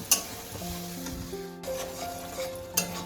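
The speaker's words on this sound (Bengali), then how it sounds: "এবার মশলাটাকে আমি মিনিট 2-3 ধরে ভালো করে কষিয়ে নেব।" Spice masala with yogurt being sautéed over low heat in a pan for paneer korma, a low steady sizzle with occasional scraping and clinking of a utensil against the pan.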